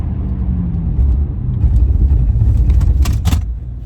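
A 2020 BMW M8 Gran Coupe with 600 horsepower accelerates hard, a loud close engine roar with a rising tone and heavy low rumble, joined near the end by a few sharp bursts.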